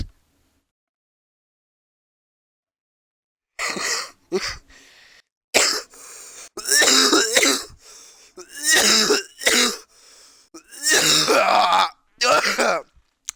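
After a few seconds of silence, a run of loud, close throat clearing and raspy coughs comes in repeated bursts separated by short pauses.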